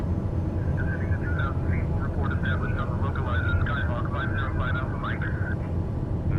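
A TBM850 single-engine turboprop drones steadily in Microsoft Flight Simulator 2020, a loud constant low cockpit rumble running throughout while a person talks over it.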